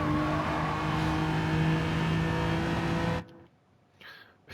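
Genesis G70 Gr4 race car on the Nürburgring in a racing game, a steady loud engine drone with a sustained tonal whine for about three seconds, then cutting away abruptly to near silence.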